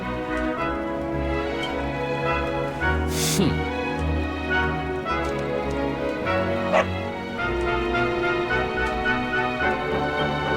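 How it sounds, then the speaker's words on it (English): Dog barks and whimpers in a Dragon Quest XI town scene, short yips and a whining cry standing out over steady game music, with a brief sharp burst near the middle. "Ah! No! No! Not a dog! Anything but that!"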